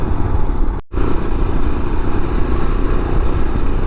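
A motorcycle riding along a road near Bangalore, a loud, continuous engine drone with rushing wind noise and a brief dropout partway through.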